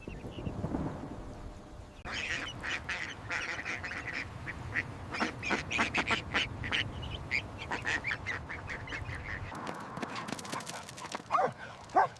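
Ducklings call with rapid, high quacks and peeps throughout, close and busy, over a rushing outdoor background.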